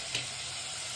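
Spices, including turmeric, frying in a pan for red sauce pasta, giving a steady close hiss of oil with a couple of brief stirring knocks.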